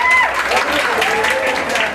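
An audience at a singing competition final claps for a judge, a loud, dense wash of applause with a spoken voice over the top.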